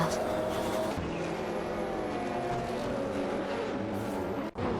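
Race cars in a video game race, including a Mazda RX-7 IMSA GTO and a Porsche 961 LM, give a sustained engine drone and whine, with a brief dropout near the end.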